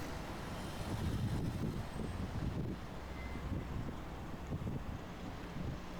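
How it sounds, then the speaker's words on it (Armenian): Cool mountain wind blows steadily across a park in Gyumri, Armenia, rumbling with strong buffeting against the microphone and no talk. "լավ քամի կա։"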